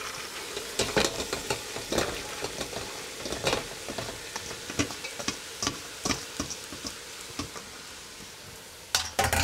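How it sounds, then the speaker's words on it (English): Vegetables for a potage ambassadeur are stirred in a pot, with repeated soft clinks and scrapes of a spoon against the metal over a quiet, low simmering hiss. "Stir. Make sure that all vegetables are in the liquid."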